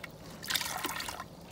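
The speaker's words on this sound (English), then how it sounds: "You want to push the water out." Water is pressed out of washed, wet alpaca fiber, giving a brief close-up trickle and slosh that swells and then fades.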